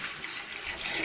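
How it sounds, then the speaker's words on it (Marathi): Water poured into a mutton curry cooking over a wood-fired village stove, a short steady splashing rush heard close up with no voices. "आता पाणी ओतून घेऊ आपण थोडासा."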